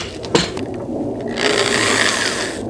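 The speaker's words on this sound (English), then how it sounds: "And now we drill." A drill boring holes into a mechanics workbench, a steady whirring grind that swells louder partway through, close and continuous with no talk.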